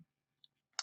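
A computer mouse clicks twice, short, faint taps close by against a near-silent room while someone edits a newsletter.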